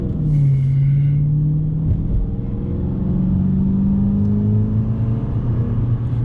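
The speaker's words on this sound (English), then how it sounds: "the car still sounds meaty and everything" A car engine rumbles up close, revving with a deep rising and falling tone that holds steady throughout.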